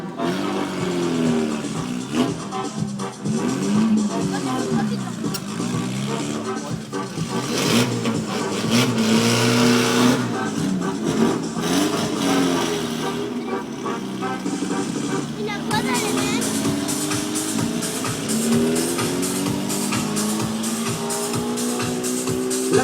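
A stunt car's engine revs and drones steadily while a driver holds the car balanced on two wheels, loud and continuous with shifting pitch, under a busy crowd-and-announcer ambience at a live stunt show.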